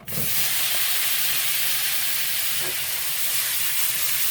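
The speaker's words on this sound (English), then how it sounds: "My pan's already warm, so I'm just going to have a little bit of butter in the pan." Ground meat heating in a warm pan with a little butter, a loud, continuous close-up sizzle and hiss that starts abruptly and holds steady throughout.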